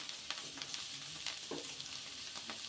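Thinly sliced bitter gourd (kakarkaya) frying in oil for a spicy fry, turning soft and mushy, stirred steadily in a pan: a faint, constant sizzle broken by light scraping strokes, with no voices.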